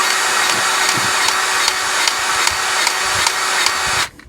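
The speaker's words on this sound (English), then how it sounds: "I'm going to go ahead and finish up greasing these wet bolts" A grease gun pumps grease into the wet bolts of an RV's leaf springs, producing a rhythmic series of close mechanical clicks and squeaks over steady hum, ending abruptly.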